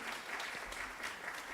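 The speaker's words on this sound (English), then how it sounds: "Could we just give all three a round of applause?" An audience claps together in a steady, fairly quiet wash of applause that lasts only a moment, with no voices on top.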